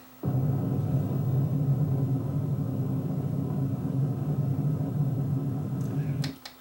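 A car chase sound effect played from a CD: a steady, loud engine roar rushes along for several seconds without a break, then cuts off abruptly.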